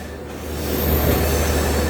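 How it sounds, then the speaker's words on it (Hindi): The Kumbh Express, an Indian passenger train, overtaking the Rajdhani Express: a loud, close rushing roar of a passing train with rail and wheel noise building steadily, without speech. "23/795 कुंभ एक्सप्रेस ने ओवरटेक मार दिया राजधानी को"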